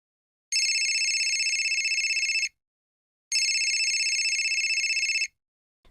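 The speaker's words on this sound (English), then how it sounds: "My mobile phone rang and I jumped out of bed." A mobile phone ringing in two identical electronic trilling bursts of about two seconds each, separated by a brief silence, loud and close with nothing else heard.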